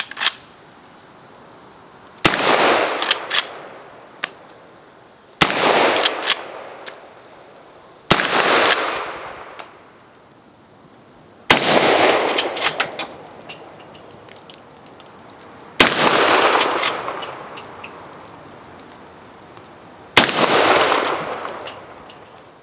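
A Taylor's 1892 Alaskan .45 Colt take-down lever-action carbine fires six loud, sharp shots at a steady pace, each a few seconds apart, with faint lever-working clicks between them.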